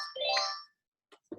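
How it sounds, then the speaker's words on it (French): A shop telephone rings with a bright electronic tone, one warbling burst of about half a second, then brief quieter sounds after a pause. "Ça, c'est mon téléphone du magasin qui sonne et que je réponds."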